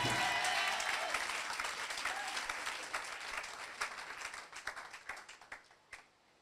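A church congregation applauding during a sermon: loud, dense clapping at first, thinning out into scattered individual claps before dying away.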